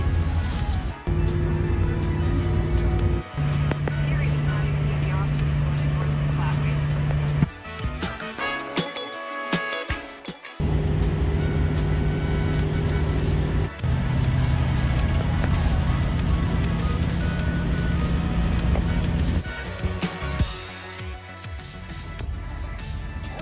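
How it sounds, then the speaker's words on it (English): A car drives along with a steady engine and road drone throughout, a sustained low hum shifting pitch at times, with a brief quieter break midway and faint talk. "And we are off. As the car goes."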